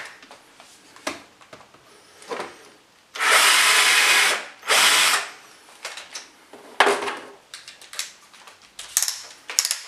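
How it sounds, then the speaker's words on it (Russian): An electric drill with a countersink bit bores screw-head recesses in a wooden desk, two loud close whirring bursts of a second or so each, surrounded by shorter clicks and handling knocks. "Сразу ставлю шарошку, прохожу углубление для шляпки шурупа."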